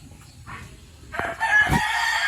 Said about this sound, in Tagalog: Ayan po ang ingay ang mga manok.